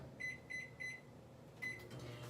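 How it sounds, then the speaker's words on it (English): A microwave oven heats a dish of berries topped with a cream cheese and icing sugar mix, its steady low hum carrying a few evenly spaced beeps near the start and one more later, with no talking. "we're going to put this into the microwave for 1 minute."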